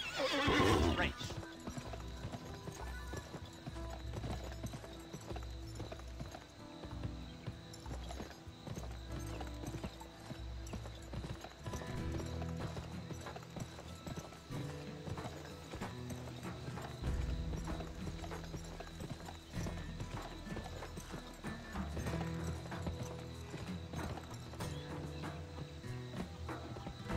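Video game horses gallop in a race, hooves clopping rapidly and continuously, with occasional whinnies and chirping crickets in the background, while voices talk over it.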